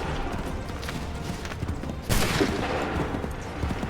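A line of soldiers in Assassin's Creed 3 fire a musket volley: after a rumbling battlefield din, a sudden loud, massed crack of many muskets at once decays into ragged echoes.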